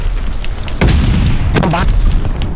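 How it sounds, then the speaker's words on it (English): A glide bomb explodes in the Call of Duty: Vanguard video game as a loud, sudden boom followed by a second blast, dense with rumble and scattered gunfire. "Friendly, sending a glide bomb."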